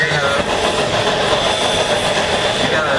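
A Shea-type steam locomotive with three vertical cylinders works nearby, producing a loud, dense, continuous mechanical roar and churning rumble of pistons and gearing that holds steady throughout.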